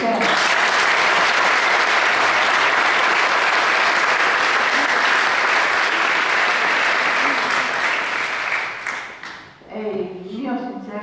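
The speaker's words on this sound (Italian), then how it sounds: "Gli facciamo un applauso insieme." A seated audience at a football club's season presentation applauds in a loud, dense wash of clapping that holds steady, then fades out as a voice begins speaking.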